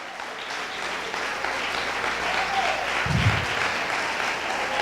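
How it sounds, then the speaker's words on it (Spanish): A church congregation claps steadily for Christ during a Spanish-language sermon, a broad sustained wash of applause that swells slightly toward the end. "Denle un aplauso a Cristo."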